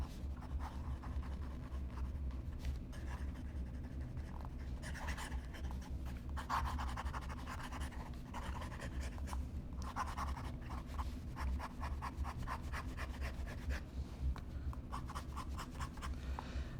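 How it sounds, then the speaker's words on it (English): A fountain pen nib, on an S.T. Dupont Neo Classique Phoenix, scratches and squeaks steadily across Rhodia paper, quick strokes in a continuous close rhythm over a low background hum. "you can hear this nib squeaking on this Rhodia paper"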